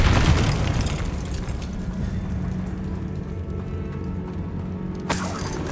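A Confringo blasting-spell explosion in the Hogwarts Legacy video game: a loud, booming blast up front, a rumbling, crackling tail, then a sharp second burst near the end.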